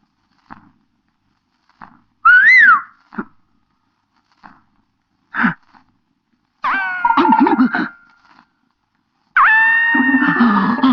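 A person whistles in a few short tonal bursts, one rising and falling near the start, then two longer, steadier whistles toward the end, separated by quiet gaps and soft knocks.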